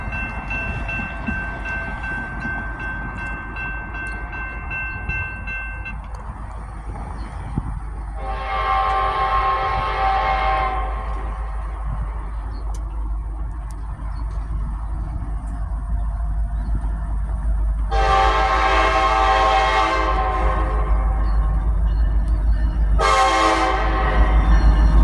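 A Norfolk Southern freight train rolls past in the evening, a steady loud rumble throughout, with three long blasts of the horn, the last one short and close.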